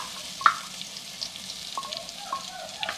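Crushed garlic, about ten cloves, frying in hot oil with fenugreek in a pan, giving a soft steady sizzle with faint crackles and one small pop near the start, quiet and close.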